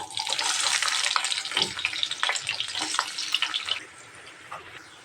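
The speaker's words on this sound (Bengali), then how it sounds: "এই তেলে এখন পেঁয়াজ ভেজে নেব" Onions sizzling in hot oil in a pan after potatoes and garlic were fried, a steady loud crackling hiss for most of the stretch that drops away abruptly near the end.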